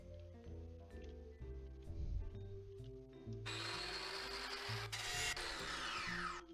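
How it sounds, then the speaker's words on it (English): An angle grinder cutting a bolt in the video game Tank Mechanic Simulator: mechanical tool tones lead into a loud, steady, bright grinding screech that runs for several seconds, with no talk. "Let's go and see if we can angle grind it."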